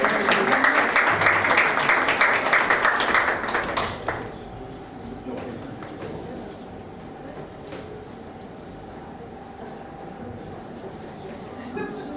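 An audience at a prize ceremony for a science-thesis contest applauds the winner. A dense, steady wash of clapping runs for about four seconds, then fades to a quiet room with faint scattered sounds.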